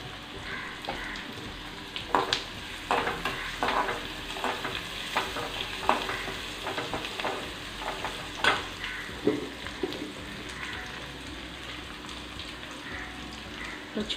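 Asafoetida and vegetables fry in oil for kuzhambu, a soft continuous sizzle broken by repeated stirring clicks and scrapes of a spoon against the pan, heard close and fairly quiet.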